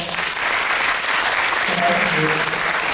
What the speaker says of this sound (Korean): 여러분 자신에게도 박수 한번 보내주시죠.